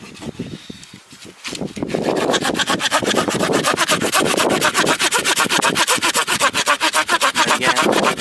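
A hand saw cuts wood at a forest campsite, starting with a few hesitant strokes, then settling into a fast, steady back-and-forth rasp, close and loud.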